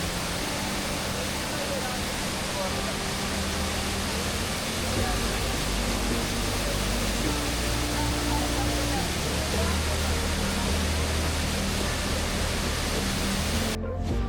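Dense, constant roar of the Athirappilly waterfall, broadband and unbroken, with a faint low hum beneath it.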